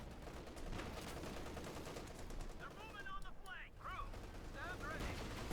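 Machine gun fire in a Company of Heroes 2 match, a rapid, steady rattle running under busy battle noise with a voice talking over it.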